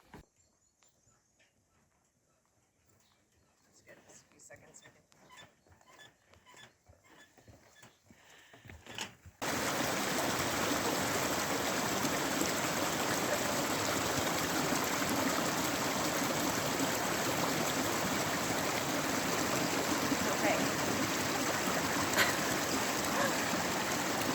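Waterfall in the New Zealand wilderness: after a quiet stretch of faint rustling, a loud, steady broadband roar of falling water sets in abruptly and continues unbroken, close and powerful.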